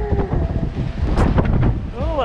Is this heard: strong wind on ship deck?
yes